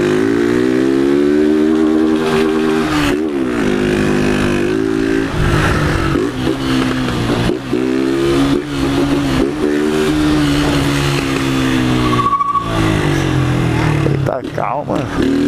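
A blue 2023 Honda Fan 160 motorcycle with the intake filter removed and a tin exhaust revs loudly and repeatedly in a favela street, its engine pitch rising and falling in close, sustained pulls while people talk over it.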